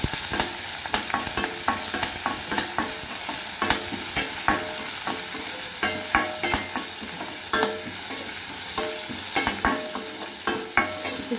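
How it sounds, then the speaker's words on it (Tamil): Shallots sautéing with salt in a pan for a Tamil tomato kadaiyal, a continuous close sizzle punctuated by regular sharp spoon scrapes and taps against the pan, no voices. "வெங்காயத்தில் கொஞ்சம் உப்பு போட்டு நல்லா வதக்கணும்"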